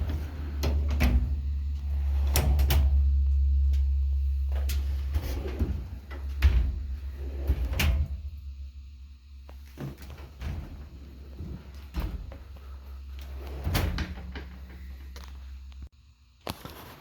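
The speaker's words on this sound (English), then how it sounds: "Here's another video of the drawers, just opening and closing them." Drawers of a Husky 46-inch mobile tool work bench slide open and shut repeatedly, giving scattered clunks and soft-close thuds over a low steady hum, several bursts spread across the stretch.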